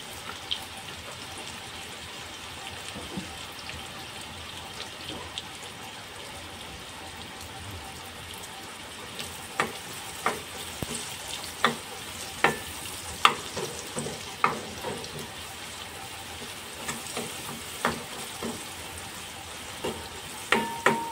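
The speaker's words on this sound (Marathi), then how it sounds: "कांदा आपला चांगला परतून झालेला आहे तेलामध्ये" Finely chopped medium onion sautés in hot oil in a heated kadhai while cooking Kolhapuri dry mutton, a soft continuous sizzle with intermittent sharper crackles and stirring clicks growing busier toward the end, no voices.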